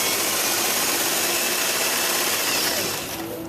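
Sewing machine stitching a pillowcase seam with a half-inch seam allowance: a loud, close, continuous motor whir and needle buzz that holds steady, then eases slightly at the end, without talk.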